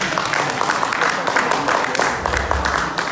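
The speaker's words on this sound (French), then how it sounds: "applaudissez déjà, même comme je n'ai pas encore dit son nom" An audience at a gathering of leaders applauds with steady, dense clapping that fills the space continuously for a few seconds, mixed with crowd noise and some talk.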